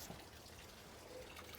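Water trickling off a fish cleaning station at an inshore saltwater fishing spot, running into the water below; a steady, quiet, close dribble and wash with no voices.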